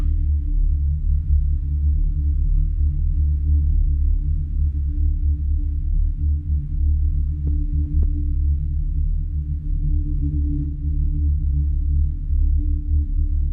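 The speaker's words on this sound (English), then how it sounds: "set the sample to play the D note in 2 octaves to get the low rumble and some higher end" A dark ambient sample played on a D note two octaves down: a deep, dark rumbling drone holds steady and loud with faint higher tones shimmering above, sustained without a break.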